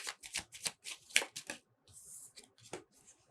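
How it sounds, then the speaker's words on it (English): Tarot cards being shuffled by hand in a run of quick papery riffles and slaps, close and fairly quiet, with a brief pause before a few more soft card flicks and no talking. "And I'll just give these a shuffle because a few of them popped up."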